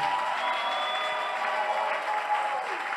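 A church congregation applauds and acclaims Jesus, a steady wash of clapping and crowd noise holding evenly throughout, close and moderately loud, with no distinct voice standing out.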